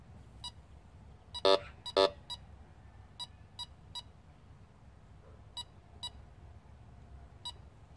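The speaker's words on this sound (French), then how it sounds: "je prends le détecteur. On va l'allumer." A metal detector is switched on in a field, giving a series of short electronic beeps, two louder ones close together near the start and then sparser, evenly spaced single bleeps over quiet outdoor background.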